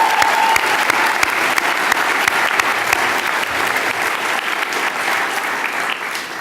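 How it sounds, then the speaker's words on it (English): Loud, sustained applause from a large audience at a university public policy commencement ceremony, dense clapping that carries steadily throughout and tapers slightly at the end, with no speech over it. "Let's give them another round of applause."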